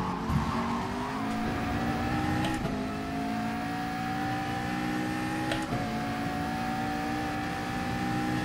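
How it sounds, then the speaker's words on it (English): A race car in Gran Turismo Sport holds a steady high-pitched engine drone and bounces off the rev limiter several times, each hit a brief stutter in the whine. No voices are heard. "bounced off the rev limiter"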